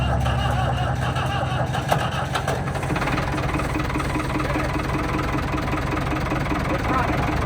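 A Ford 5000 diesel tractor engine runs after being started, a steady low throbbing idle with a slight roughness heard up close, unchanged from start to end.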